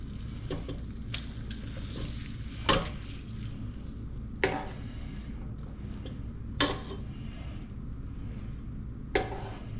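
Drained pasta being stirred and tossed in oil in a pan for carbonara, a steady soft sizzle with faint squishy stirring and a few sharp utensil scrapes against the pan, close and with no talk.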